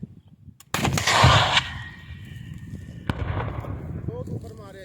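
A sharp gunshot and then a second one ring out in the open during a police operation against bandits in the riverine area of Rajanpur and Rahim Yar Khan, each trailed by a long echo, with voices around.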